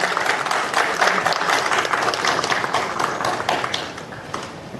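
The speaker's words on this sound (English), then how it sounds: "Please give a huge round of applause." An audience applauding, a dense patter of many hands clapping that stays strong and slowly eases toward the end.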